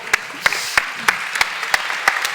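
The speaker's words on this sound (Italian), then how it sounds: "Il mio applauso va a voi" Hand clapping at the Starbucks Dreamers Day 2019 event, a loud, evenly spaced series of about eight sharp claps over a light background of scattered applause.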